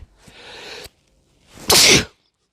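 A single loud, close sneeze bursts out after a quieter breathy intake, with silence following.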